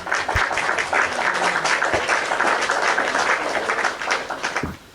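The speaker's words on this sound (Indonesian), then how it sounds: "Kasih tepuk tangan buat Ratu Gunung Kembar yaitu Kak Reni" Studio audience applause on an Indonesian talk show for a guest, a full round of clapping with a few louder individual claps and bumps, tapering off in the final second.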